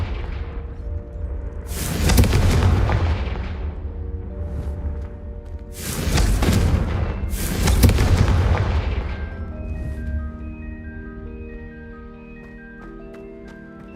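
The Confringo fire spell in the video game Hogwarts Legacy lets off three loud, booming fiery blasts that rumble and decay, followed by a ringing tonal shimmer, with no talk over them.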